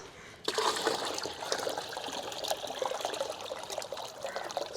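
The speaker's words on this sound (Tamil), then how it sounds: "அதுக்கடுத்து இன்னும் கொஞ்சம் ஊற்றிக்கலாம்" Water poured into a homemade glass fish tank, a steady close trickle and splash that starts abruptly and runs on without pause.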